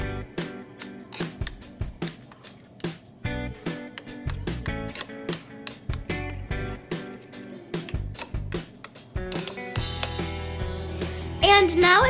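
Rapid clinking and scraping of a utensil against a bowl while mixing chicken wing sauce ingredients, a busy irregular rhythm of stirring, close by, with a brief louder rattle near the end.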